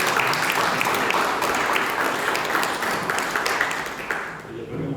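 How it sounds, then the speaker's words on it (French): Audience applause for two new moderators welcomed at a 20th-anniversary gathering, a dense, steady wash of many hands clapping for about five seconds, with voices mixed in before it fades slightly at the end. "on peut les applaudir"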